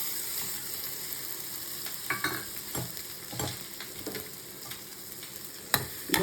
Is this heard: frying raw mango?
yes